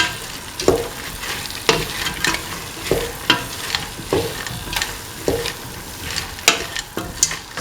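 Cauliflower and peas stirred and frying in a pan, with repeated scraping strokes of a spoon over a steady sizzle, close and fairly loud, no talking.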